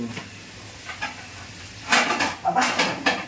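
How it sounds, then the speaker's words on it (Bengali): Metal tawa griddle set onto a home kitchen stove: soft scrapes, then a few close clanks and clatters of metal on metal in the latter half, fairly quiet. "চাটুটা বসিয়ে দিই গরম হোক চাটুটা"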